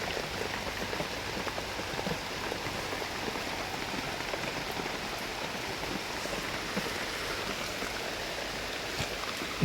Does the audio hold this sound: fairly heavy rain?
yes